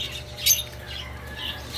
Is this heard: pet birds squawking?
yes